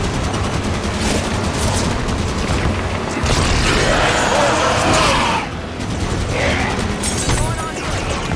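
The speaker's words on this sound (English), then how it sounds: "Supporting on the Warthog gun" The Warthog vehicle gun firing in the Halo 5: Guardians video game, loud sustained bursts of rapid gunfire with booms and vehicle rumble, under in-game voices.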